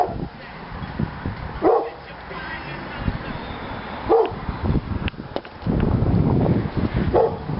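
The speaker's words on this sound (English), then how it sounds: "The dog's barking at a poor little kid." A dog barks repeatedly outdoors at some distance, with several sharp bursts spaced a couple of seconds apart over a quiet background and some rustling noise.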